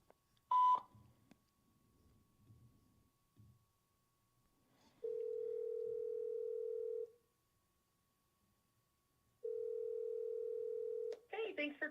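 Two long steady beep tones from a voicemail or phone answering system, each lasting about two seconds with a pause between them, loud and clean, with brief talk before and after.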